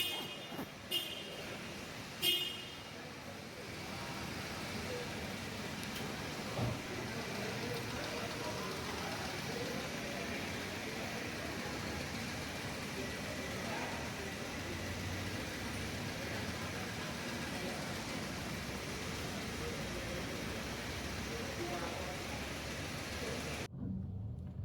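A Daihatsu Ayla, just repaired after engine overheating, crawls through a traffic jam, a steady low engine and road rumble from inside the car, faint and continuous, with a few brief knocks near the start.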